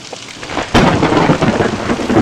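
A loud thunderclap bursts in suddenly and gives way to heavy, continuous rain and rumbling from a thunderstorm with lightning in the horror game Nun Massacre.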